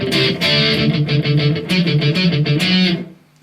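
Electric guitar plays a verse, rhythmic strummed power chords with crisp choppy attacks, loud and alone, stopping just before the end.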